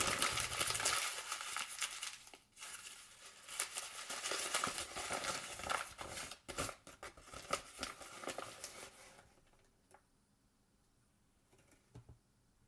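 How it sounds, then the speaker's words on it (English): Sheet of paper being crumpled by hand and then opened flat, a dense close crackling and crinkling that runs for about nine seconds, then stops, leaving near silence with a few faint rustles. "Crumble the paper, open it flat."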